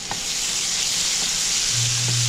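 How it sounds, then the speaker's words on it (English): Ginger garlic paste sizzles steadily in a hot pan at medium-low heat, a loud, continuous close frying hiss with a faint low hum joining near the end. "Now I'm going to add a 1 tablespoon of ginger garlic paste"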